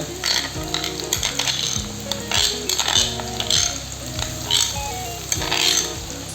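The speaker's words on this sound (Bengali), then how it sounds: "এখন আমি আগে থেকে রেডি করে রাখা মশলাগুলোকে খুব ভালো করে কষিয়ে নেব।" Spice masala fries in a pan over already-fried onions and chillies for a spicy boal fish curry, with a spatula scraping and clattering in steady rhythmic strokes over a constant sizzle; no one speaks.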